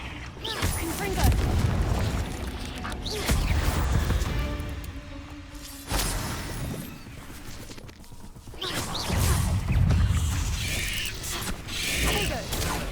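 Blasting spell explosions from combat in Hogwarts Legacy go off as several heavy booms and crashes amid mechanical clatter, with a voice calling out spells between the blasts.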